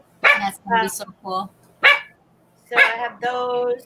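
Indoor dogs let out several close, loud barks and yips spaced unevenly, overlapping a woman's speech.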